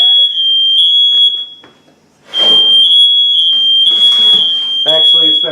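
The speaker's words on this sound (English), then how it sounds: "Oh, that beeping sound. That means the croutons are done." An oven timer beeps steadily as a batch of croutons finishes baking, sharp high electronic tones repeating close by, with a brief pause midway and a voice talking over the end.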